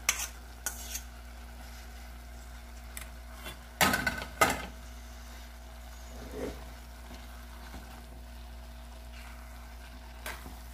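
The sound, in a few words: stirring and mixing dinner in a pan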